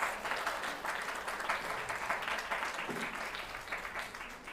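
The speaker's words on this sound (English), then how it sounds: "So one more big round of applause to welcome them." Steady audience applause welcoming a group of young singers, a continuous, fairly close wash of many hands clapping that holds evenly throughout before easing slightly at the end.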